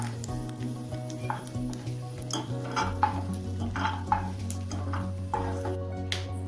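Roasted peanuts being stirred in hot oil in a pan, a steady scraping and light sizzle with repeated spoon knocks against the metal, close by and moderately loud, with a low hum running underneath.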